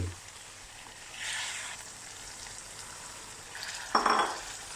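Beef stir-fried in green curry paste and coconut milk gives a faint, low sizzle with a few soft stirring swishes and a brief clatter of a utensil near the end.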